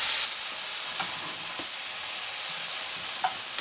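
Peppers frying in oil on a boat galley stove, skins charring at the edges: a steady broadband sizzle runs throughout with a few soft clicks of stirring, close and even, no talking.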